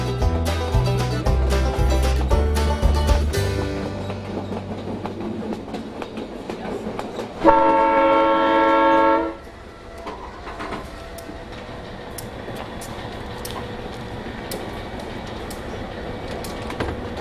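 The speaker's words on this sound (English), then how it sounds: "Picking up speed, the train runs along the Skagway River" A White Pass train runs along the Skagway River, with a heavy rumble and rhythmic clickety-clack of wheels, a brief loud tonal screech or horn-like sound midway, then a quieter steady roll with faint ticks.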